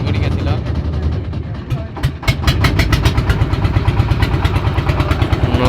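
A river boat's engine on the Teesta, stuck in shallow water, revs hard in gear, a loud rapid chugging pulse that steps up in pace partway through and keeps thumping steadily.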